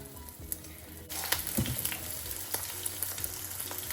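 Liver fritter batter, spooned into hot oil in a frying pan, sizzles and crackles steadily, growing louder once the mixture hits the pan, with small pops and spatters throughout.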